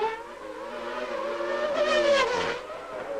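Ayrton Senna's Formula One car in 1990 Australian Grand Prix practice braking hard and downshifting to second gear for the slowest corner, its high-pitched engine note loud and close, dropping in steps with a brief rising blip.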